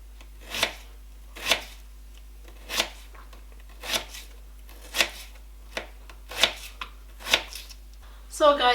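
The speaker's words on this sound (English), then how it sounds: "I am done cutting the potato" Potatoes being cut into small pieces with a knife for fufu, heard as a steady series of about eight sharp, evenly spaced chops at close range, followed by a brief rustle at the end.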